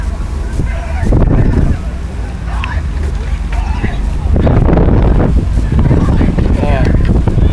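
Gusty wind on a rowing course during a women's collegiate race rumbles steadily against the microphone, while voices talk over it throughout.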